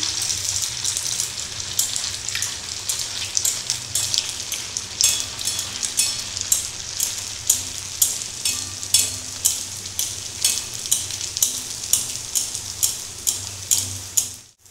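Semolina luchi deep-frying in hot oil, a steady dense crackling sizzle that swells and bursts in rhythmic waves as the puffed breads bubble, close and continuous with no talking.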